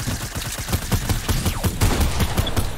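Rapid gunfire in Fortnite rattles in a dense burst of repeated shots, loud and close, with no talking over it.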